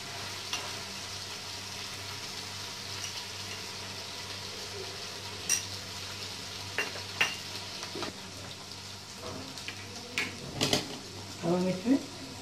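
Peanuts fry with pumpkin sabzi in a pan, a soft steady sizzle broken by scattered scraping stir strokes and spoon clinks that grow busier toward the end.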